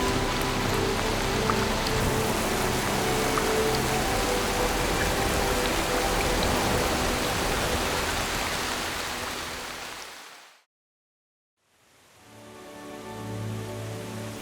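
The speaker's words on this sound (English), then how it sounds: "Hunting will have to wait until the rains pass." Steady heavy winter rain pours down in England's Peak District, a dense hiss for about ten seconds, then cuts to a brief silence before rain resumes more softly.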